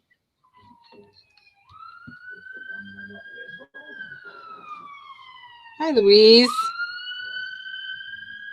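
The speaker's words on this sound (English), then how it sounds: "so you might hear a lot of sirens" Emergency vehicle sirens wail outside a home a block from a hospital on a Saturday night, a steady rising and falling tone swelling loud as it passes, with indoor voices talking quietly underneath.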